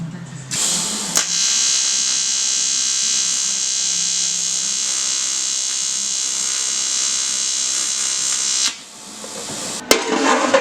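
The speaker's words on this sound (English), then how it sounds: "We'll weld that up now." Welding on a cafe racer seat frame in a workshop: a steady, loud buzzing hiss runs for about eight seconds, then cuts out, followed by brief clatter and handling noise.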